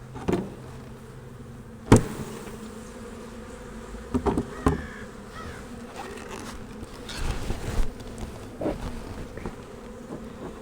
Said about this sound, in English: get these bees off this inner cover